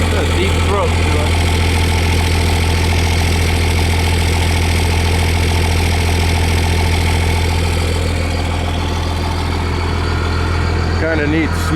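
A 2001 second-generation Cummins diesel with a stock turbo and bolt-on parts idles steadily with a deep, low rumble, close and loud for the whole stretch, with faint voices now and then.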